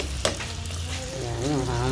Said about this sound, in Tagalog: ilalagay muna natin yung ham